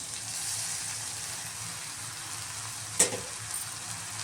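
Strained vermicelli goes into a hot pan for upma and sizzles steadily at close range, with a brief sharp clatter or stir partway through and no talking.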